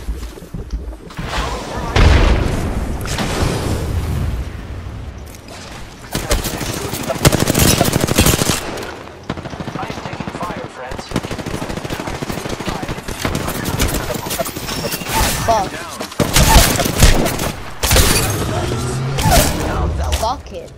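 Gunfire in the video game Apex Legends: loud, dense automatic bursts and rapid shots come in repeated waves with brief lulls, mixed with game effects and talking.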